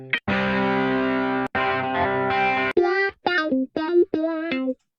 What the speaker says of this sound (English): there's a whole bunch of loops that kind of come stock with GarageBand that can be used